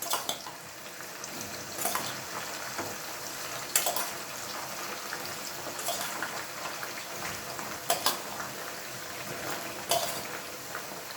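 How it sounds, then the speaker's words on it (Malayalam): Okra (vendakka) frying in hot oil until golden brown, a steady crackling sizzle broken by brief scraping stirs of a utensil against the pan about every two seconds. "വെണ്ടക്കായ നന്നായി ചൂടായി ഗോൾഡൻ ബ്രൗൺ ആവണ വരെ ജസ്റ്റ് ഒന്ന് ഫ്രൈ ചെയ്തെടുക്കുക"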